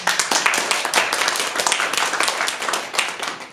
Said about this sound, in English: They are, and applause is recommended, Phil Cohen,